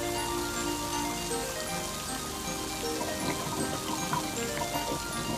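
Rainwater runs into a roof gutter on a rainy day, making a steady, even patter and trickle that holds at a constant level throughout.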